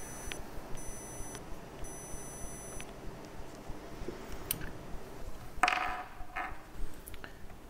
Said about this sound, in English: Also small buzzer is included, but it is very quiet.